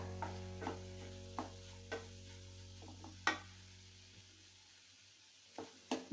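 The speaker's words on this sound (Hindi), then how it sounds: "जो हमने ये उबले हुए आलू उबाल के छील लिए थे, तोड़ लिए थे, इसको भी मैं इसी में डाल के अच्छे तरीके से मिक्स कर लेती हूँ" Boiled, peeled potatoes being stirred into spices in a pan for aloo matar methi paratha filling: a soft sizzle with a low steady hum beneath and several scattered spoon scrapes and knocks.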